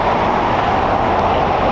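A Boeing 747 jet at LAX airport early in the morning, a steady loud engine roar with a broad hum, continuous and unbroken over a short stretch.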